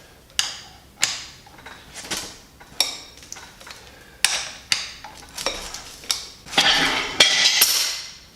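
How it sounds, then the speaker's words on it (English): Sharp metallic impacts and clanks while breaking loose torque-to-yield flywheel bolts on a Toyota Supra, about a dozen irregular hits and ratcheting knocks close by, with no speech over them. "All right, so we got to break the flywheel bolts off now."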